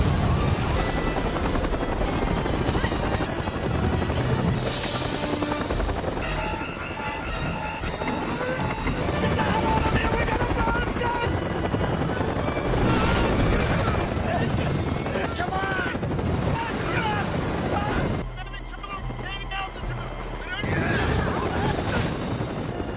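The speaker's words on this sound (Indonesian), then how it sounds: "Sayangnya, helikopter tidak bisa mendarat atau terbang dengan tenang karena angin kencang." Helicopter hovering beside a clifftop in strong wind, its heavy rotor chop and engine roar filling the scene at close range, with gusting wind noise and a brief dip in level near the end.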